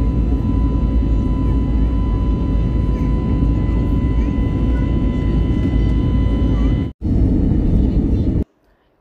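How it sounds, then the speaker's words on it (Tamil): Inside the cabin of an airliner on a flight from Singapore to India during takeoff or landing, a loud, steady engine roar and rumble fills the cabin, with a brief cut near the end. "நம்மளோட flight take off and landing வந்து மேண்டேட்ரி ஆயாச்சு"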